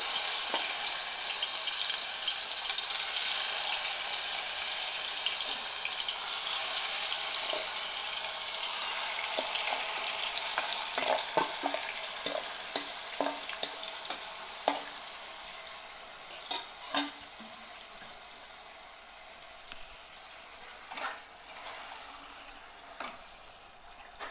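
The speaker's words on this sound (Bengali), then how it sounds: "এভাবেই আমি 1 মিনিট একটু নাড়াচাড়া করে নিচ্ছি।" Marinated chicken being stirred in a hot pan, a continuous hissing sizzle with scattered utensil clicks and scrapes that grow more frequent toward the middle, no talking.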